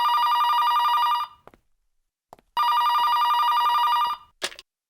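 A telephone rings in two long bursts of trilling electronic bell tone separated by a pause, loud and close, with small clicks after each burst.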